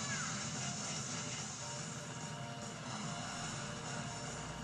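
An enemy helicopter in the arcade video game Cannon Spike drones with a steady rotor and engine rumble, mixed with dense game effects and music throughout.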